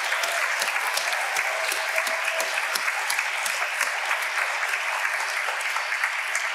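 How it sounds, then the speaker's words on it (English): Audience applause for honorees at the 2025 Clara Lemlich Awards, a steady, dense clapping from a sizable crowd that holds at an even level throughout, with a few sharper individual claps poking out. "another round of applause"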